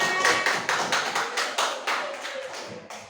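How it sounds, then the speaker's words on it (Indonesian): A classroom group applauding the third-place winner of a school competition, a quick series of light, fairly soft claps in a roomy space, tapering off toward the end. "Kasih tepuk tangan."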